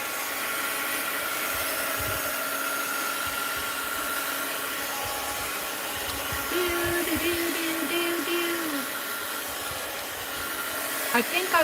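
A blow dryer drying paint on a stencilled envelope gives a steady, loud whooshing hiss throughout, up close, with a brief tonal whine partway through and small handling knocks near the end.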